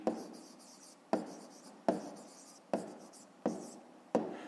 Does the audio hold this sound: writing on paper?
yes